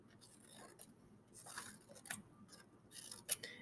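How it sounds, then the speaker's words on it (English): Several short, crisp snips of scissors cutting a star shape from paper, spaced irregularly with quiet pauses between, close by and fairly soft. "I'm going to cut out a star shape by cutting out kind of little triangles from it"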